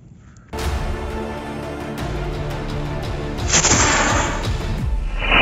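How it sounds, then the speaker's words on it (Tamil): A Diwali firework rocket fired by a mobile phone voice command goes off with a sudden loud blast, followed by a sustained roaring hiss with sharp cracks and a brighter burst near the end. "Hey Google, launch rocket 3. Launch 3, 2, 1."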